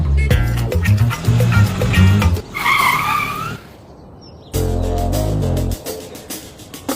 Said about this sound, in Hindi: अबे गाड़ी क्यों रोका यार?